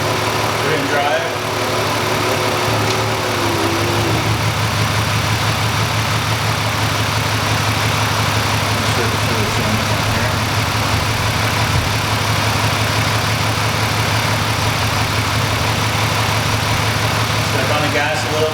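A misfiring car engine runs in drive under load while being power braked, giving a steady, loud low rumble with uneven pulsing throughout, close by, with no voices over it.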